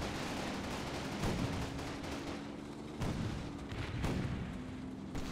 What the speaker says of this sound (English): there's a machine gun on that right